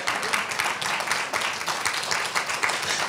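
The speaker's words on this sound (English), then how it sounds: "Cheering." Crowd at an outdoor Juneteenth celebration at College of the Mainland cheering and applauding, a steady dense wash of clapping and shouts holding at an even level throughout.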